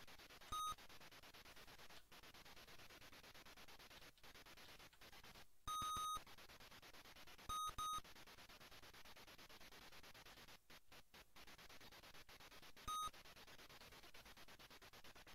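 Beeping from an Amstrad video game: short repeated electronic bleeps in bursts over a steady noisy hiss, irregularly spaced and fairly faint.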